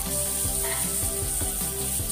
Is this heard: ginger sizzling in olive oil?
yes